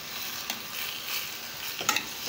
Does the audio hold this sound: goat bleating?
no